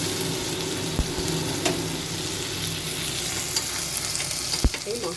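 Spice mix of tomato, ginger, green chilli, turmeric and Kashmiri chilli powder hitting a hot pan, giving a steady close sizzle with a few sharp clicks of a spoon against the pan, no voices.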